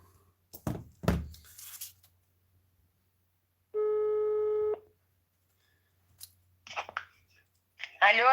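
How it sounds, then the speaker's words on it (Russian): A telephone is dialed, giving soft clicks and knocks, then a single steady ringback tone lasting about a second, with faint handling noises and short bursts of voice afterward. "Набираю."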